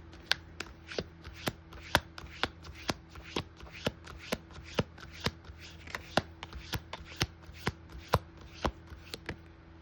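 Tarot cards being shuffled, sharp crisp riffling snaps repeating about twice a second in an even rhythm, close and clear with no talk.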